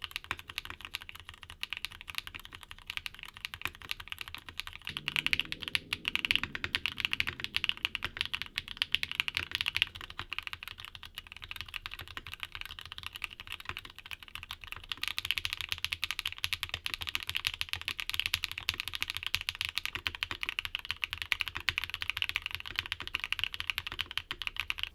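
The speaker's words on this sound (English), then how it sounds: "Now, here are back-to-back sound tests of all the switches we talked about today." Mechanical keyboards with several smooth linear switch types typed back to back, a continuous run of close, crisp key clicks whose tone shifts slightly between sets, with a brief low hum midway and no talking.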